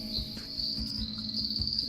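Night chorus of calling frogs or insects by an apiary during light rain, a steady high trill running throughout with low pulsing calls beneath, moderately loud and continuous with no talk.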